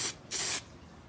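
Clear coat sprays from an aerosol onto a hydro-dipped camo gun stock: two short hissing bursts close up, the second longer and louder, with no talk.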